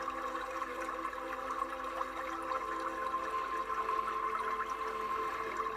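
Gently flowing water in a calm meditation setting, a soft steady trickling and running stream that continues evenly at moderate distance with no other sounds.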